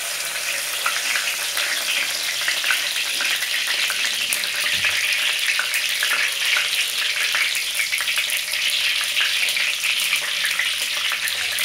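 Cinnamon masala sizzles loudly and steadily in hot oil for a mutton head curry, a dense, unbroken frying hiss that holds near and even throughout with no voices.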